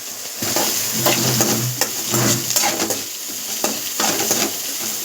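Slit green chillies stir-frying in a pan for egg podimas until golden, a steady close sizzle broken by scraping stirs and a few sharp clinks, with a faint tonal hum underneath.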